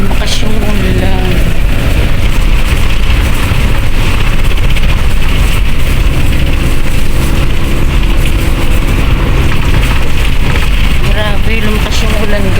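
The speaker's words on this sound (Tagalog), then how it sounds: "Grabe, lumakas yung ulan, guys. Ang lakas ng ulan." Heavy rain pours in a steady, loud roar without a break, drumming on surfaces close by, while voices are heard over it.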